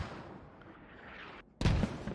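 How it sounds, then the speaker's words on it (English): Incoming mortar rounds in the tactical shooter Squad: a rolling rumble of distant fire builds, drops out for a moment, then a loud, close explosion hits hard and lingers. "Mortars being called in danger close."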